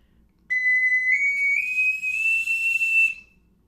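High, thin whistle-like note from a plastic soprano ocarina played with too little breath, weak and airy, held steadily for about two and a half seconds with a slight upward drift in pitch, alone and fairly close.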